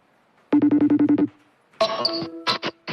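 A rapid trill of electronic phone ring pulses, then a brighter burst of ringtone chirps, close and loud in a short clip.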